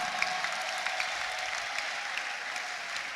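A congregation at an ADEPR church prayer service breaks into steady, dense applause that fills the whole clip. Sharp shrill accents cut through it, fitting the ululation, and no one speaks.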